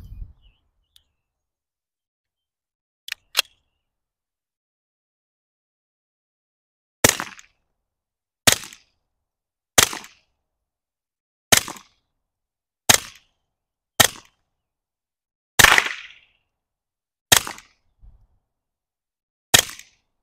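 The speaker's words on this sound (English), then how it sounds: "I've got 15 rounds here ready to shoot." A suppressed FN 502 pistol fitted with a Dead Air Mask suppressor fires about ten sharp, loud shots at fairly even intervals, each followed by a short decay. A quiet stretch comes before the first shot.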